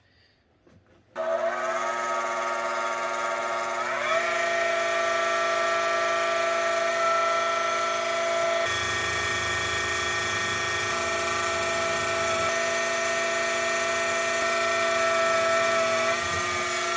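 A milling machine whirs at a steady high pitch after a sudden start, its tone shifting slightly as it drills center holes, continuous and close.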